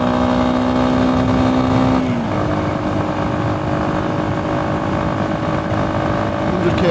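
A motorbike in fourth gear at about 100 km/h accelerates under full throttle, a loud, steady engine drone and wind roar that rises in pitch as it picks up speed.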